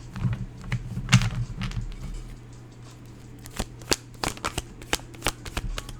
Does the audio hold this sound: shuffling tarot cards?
yes